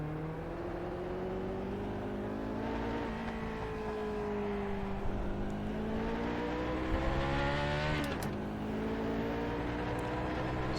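Car engine in a driving video game revs up and down through several rising and falling sweeps with gear changes, loud and close, over a steady road-noise bed, without talking.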